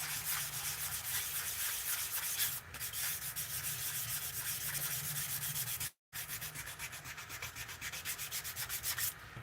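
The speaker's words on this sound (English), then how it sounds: "This is like fine sandpaper, really." A carved wooden bowl is sanded by hand with fine sandpaper, giving a steady, quiet, rhythmic rasping rub that continues without talk, broken only by a brief pause.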